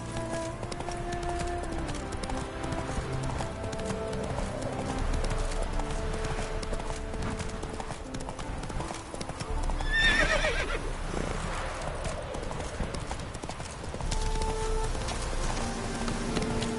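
A horse in The Witcher 3 gallops with rapid, continuous clip-clop hoofbeats under game music, and a loud whinny breaks out midway before the galloping carries on.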